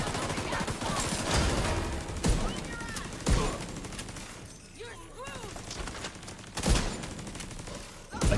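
Light machine gun fire in The Division 2, sustained bursts of rapid shots with sharp loud peaks and brief lulls, someone talking over the shooting.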